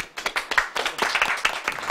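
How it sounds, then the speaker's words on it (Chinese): A small audience clapping at a kung fu demonstration, a short burst of scattered, uneven hand claps at close range. "好，鼓掌。"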